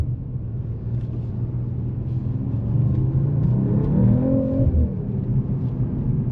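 A 2024 Mercedes-AMG CLE 53 Coupe engine rumbles and builds as it accelerates, pitch climbing over a few seconds before easing off, heard from inside the vehicle.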